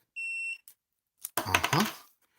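A single short electronic warning beep from a second-generation Toyota Prius with a faulty parking brake switch rings out, followed by a muffled clatter and rustling handling noise close by.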